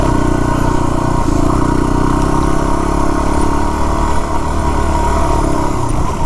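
A Yamaha WR250R dual sport motorcycle with an engine of about 30 horsepower runs steadily while riding up a hill road, with a loud, continuous engine drone and wind rumble and no talking.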